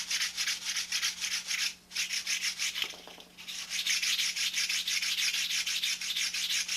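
Sandpaper rubbed back and forth across wooden ribs in rapid, steady strokes, a close, loud, gritty scraping with a brief pause near the middle, and no voices.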